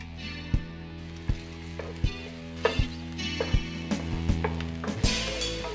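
Garlic frying in a pan with oil, a steady close sizzle broken by regular hard knocks of a utensil against the pan, about one every second.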